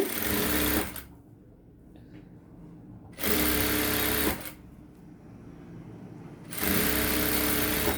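A sewing machine stitches lining onto the back of a blouse, whirring loudly in three separate runs of roughly one to two seconds each, with quiet pauses in between.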